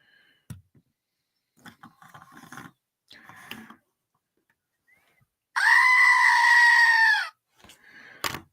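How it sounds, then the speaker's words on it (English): A goat gives one loud, sustained bleat of nearly two seconds, close by and harsh, after a stretch of scattered quiet sounds and before a short final noise. "Little goat action for y'all."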